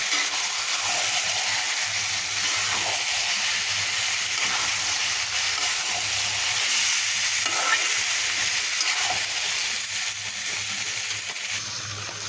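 A bottle gourd and fish curry, with rohu and shrimp, is stirred in a pan over steady sizzling. The spoon scrapes and swirls in soft, repeated strokes over a continuous loud frying hiss, and no one speaks.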